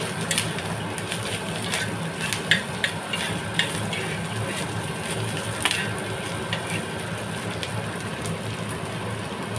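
Softened onions frying in a pan, a steady crackling sizzle with occasional sharp clicks and spatters, close and continuous, with no voices.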